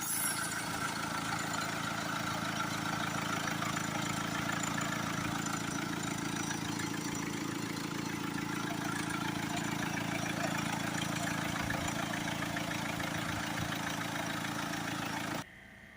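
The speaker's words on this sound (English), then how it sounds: "Okay, we've got the vehicle on idle." A Mercedes E-Class 2.1 CDi diesel engine idles for the whole stretch, a low even rumble with a constant hum, cutting off abruptly right at the end.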